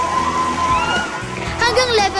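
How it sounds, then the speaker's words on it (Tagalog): Big waves from a storm wave pool, driven by a giant bouncing ball, slosh and splash against the walls, with children's voices and crowd chatter mixed in throughout. "Kapag nagsimula na itong gumalaw at tumalbog, humanda na sa mga malalaking alon"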